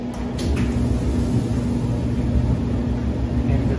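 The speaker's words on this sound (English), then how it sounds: "and the dryer starts running" A coin-operated clothes dryer with an electronic timer module hums steadily as its drum starts turning, a constant low drone close by with no talking.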